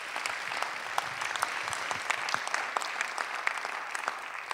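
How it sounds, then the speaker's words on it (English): A conference audience at ZeroCon19 applauds a panel, giving dense, steady clapping that fills the room at an even level throughout, with no voices over it. "Please, a round of applause for that, I thought, incredibly informative panel."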